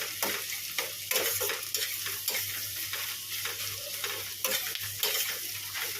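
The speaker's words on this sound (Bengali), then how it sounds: "মাংসের জন্য পেঁয়াজটা লাল লাল করে ভাজবো নুন দিয়ে দিয়েছি যাতে তাড়াতাড়ি নরম হয়ে যায়" Salted onions frying in a pan for biryani meat, a steady close sizzle with the regular scrape and clatter of a spoon stirring, no talking.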